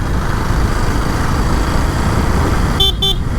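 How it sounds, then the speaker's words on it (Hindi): A KTM RC 200 motorcycle horn sounds in busy Bihar traffic: two short, close honks in quick succession near the end, over a steady wash of road and engine noise. "देखो हम बार बार हॉर्न क्यों दे रहे हैं"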